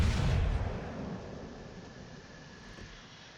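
Naval gunfire from the German battleship Gneisenau in a naval combat video game: a heavy, booming salvo that opens loud and then rumbles away into a long, fading low roar.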